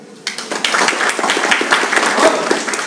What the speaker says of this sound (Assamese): তো তোমালোকৰ ছাৰ আৰু মেমৰ কাৰণে হাত চাপৰি